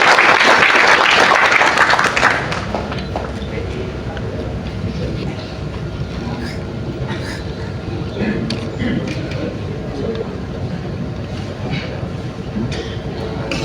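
An audience at a stage event for the Patriot Garuda Nusantara organisation applauds in a loud burst at first, then settles into steady, sustained clapping and crowd noise.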